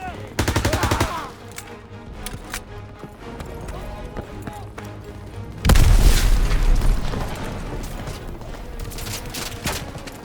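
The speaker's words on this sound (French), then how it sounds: "L'artillerie va nous aider!" Artillery barrage in the Call of Duty WWII video game, with rapid machine-gun bursts, then a huge booming explosion that rolls and rumbles loudly, mixed with battlefield clatter and shouting voices.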